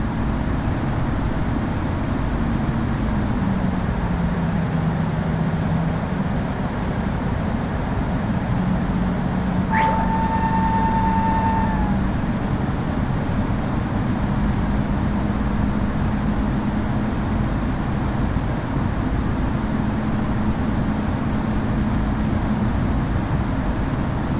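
An airliner in the Infinite Flight game rolls out for takeoff from runway 25 right, a steady, loud broadband engine roar holding throughout, with a brief tonal chime partway through.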